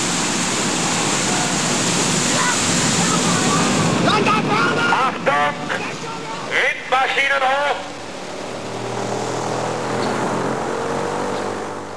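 Masses of water pour rhythmically over a full-size U-boat tower mounted in a drainage tank on a film set, a broad roaring wash with bursts of splashing and surging, then a quieter steady rush, with voices speaking.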